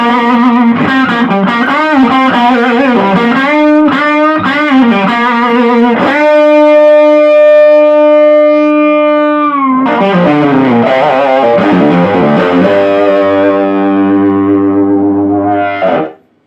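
A Fender Hot Rod Deville guitar amp with a Dumble-style conversion plays through its drive-type distortion boost channel. Loud, thick distorted notes and chords sustain and ring out, then fade at the end.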